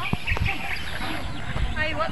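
Chickens clucking on a hillside farm in Bukidnon, near a hut by a cornfield, short close clucks and calls scattered over a steady outdoor background with some rustling and handling noise.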